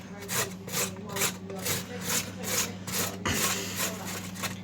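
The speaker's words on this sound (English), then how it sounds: "This is the really great noise of the grater" Carrots being rubbed against a hand grater in steady rhythmic strokes, a rasping scrape roughly every half second, close and fairly loud with no talking.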